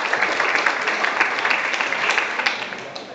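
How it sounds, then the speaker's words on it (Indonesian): Open mic audience gives steady applause, dense clapping from a crowd in a hall that fades slightly toward the end, heard without talk over it. "Boleh tepuk tangan untuk Ramon Popara."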